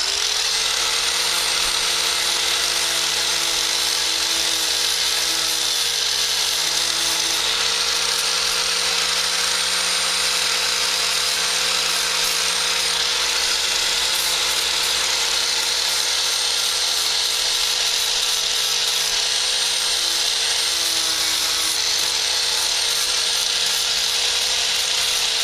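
Power grinder working the rear quarter panel of a car: a steady, loud, high-pitched whine held without a break, with slight pitch wavers as the tool presses on the metal, no voice.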